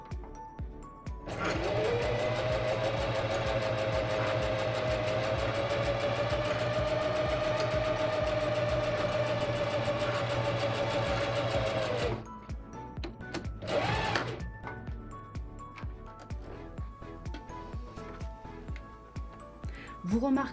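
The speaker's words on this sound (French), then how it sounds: "Vous remarquerez que la machine est peu bruyante et que pour ce test, j'ai passé jusqu'à 6 épaisseurs de 6 millicuir." A Necchi Q132A sewing machine stitches through six layers of leatherette with a fast, even whirring hum for about ten seconds, then stops; a short second burst follows.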